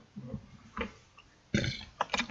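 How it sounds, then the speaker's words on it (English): A single person burps softly in a quiet room, a few brief low guttural gulps followed by a louder, sharper belch near the end, close to the microphone. "Sorry, I just burped."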